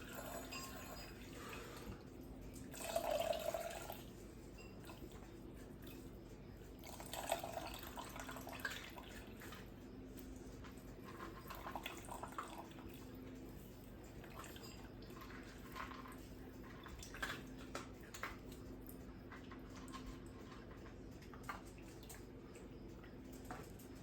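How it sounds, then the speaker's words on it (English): Lilac tea strained through a small kitchen strainer while making homemade lilac jelly: faint, soft trickling and dripping of liquid with a few brief louder splashes over a quiet room hum, no talking. "we're gonna strain out the lilacs"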